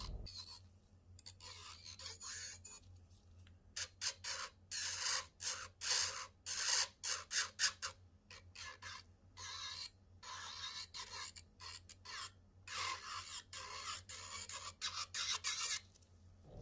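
A high-pitched Makartt electric nail drill whines in short, repeated bursts, buzzing and grinding as it touches the nail, close and steady with no talking.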